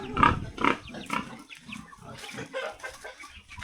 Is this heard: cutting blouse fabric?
no